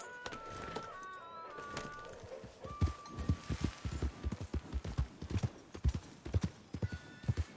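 Hooves clip-clop at a steady walking rhythm in Red Dead Redemption 2, growing louder and more distinct over the second half. Background voices and faint birdsong are heard early on.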